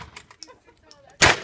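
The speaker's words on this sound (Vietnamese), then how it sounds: "Bây giờ mình chuyển qua dợt bắn súng ngắn nha quý vị." A single sharp, loud revolver gunshot at an outdoor gun range, coming after a stretch of quiet clicks and faint background sounds.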